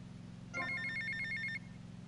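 A payphone in GTA Vice City rings in one continuous, bright electronic burst of about a second, standing clearly above a steady low hum, with no talking.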